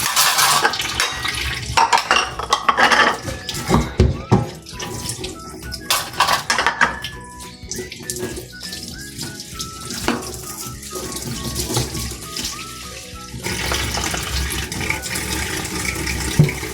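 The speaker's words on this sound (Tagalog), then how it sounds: "Kanlawan ko lang po muna bago ako magsapon." Dishes rinsed under running kitchen tap water before soaping: a steady loud splash and hiss of water with clinks and knocks of dishes in the sink, continuous for the whole stretch without talk.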